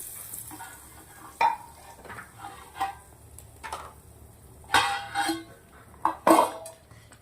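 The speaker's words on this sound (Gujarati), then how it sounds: "આપણે વઘાર રેડી દેશું" A spoon clanks and scrapes against a pot of Gujarati dal dhokli as the vaghar tempering goes in and is stirred, giving sharp metallic knocks at irregular intervals over a low background hiss.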